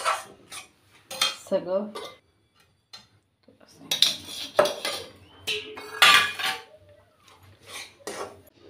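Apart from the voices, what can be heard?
mixing semolina and powdered sugar together in a bowl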